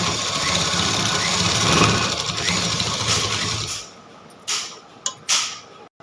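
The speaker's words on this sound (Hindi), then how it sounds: "पहले यहाँ पे सिलाई लगाते हुए लेके चलेंगे। सिलाई हमारी फिनिशिंग से आनी चाहिए।" A sewing machine stitching the collar of a ladies' kurti runs in a steady, close whirring hum for about four seconds, then stops, followed by a few faint handling clicks.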